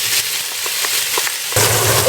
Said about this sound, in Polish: Daję 3 łyżki oleju i teraz smażę już boczek.